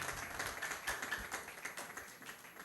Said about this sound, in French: Applaud for the glory of God, please.